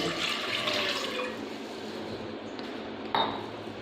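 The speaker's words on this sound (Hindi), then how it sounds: "एक बाउल में हम ऐड करेंगे 1 गिलास पानी।" Water from a glass poured into a bowl while making a plum drink, a steady splashing pour lasting several seconds with a brief clink near the end.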